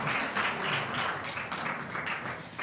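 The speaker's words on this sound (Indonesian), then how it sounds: "sekali lagi beri tepuk tangan buat Esther sama Miftah." A church congregation claps in sustained applause, dense and even, for a few seconds.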